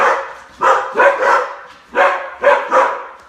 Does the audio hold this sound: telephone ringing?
no